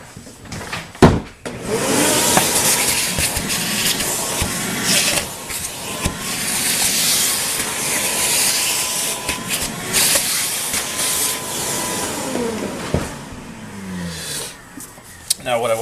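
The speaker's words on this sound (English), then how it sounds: "I'm going to vacuum this out a little bit." A vacuum cleaner sucking debris out of a gap in a hardwood floor during board replacement, a loud steady hissing whine that runs most of the time with brief bumps and pauses near the start and end.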